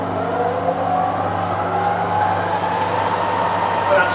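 Bridgeport Vari-speed milling machine with a 42-inch table, spindle turning at 50 RPM, a steady low motor hum with faint whine, continuous and fairly close throughout.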